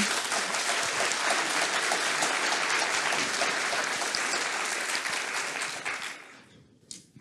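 A conference audience applauds two speakers, Mathias Arlaud and Robin Chalas, at a Domain-Driven-Design forum, a loud, steady wash of many hands clapping that fades out near the end.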